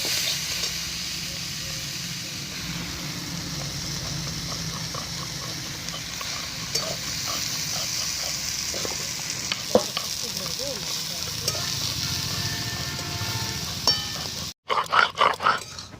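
Leafy greens, thankuni leaves and bottle gourd greens, sizzle steadily in a hot pan while being stirred, with a continuous close frying hiss and faint scrapes, ending in a short burst of utensil clatter.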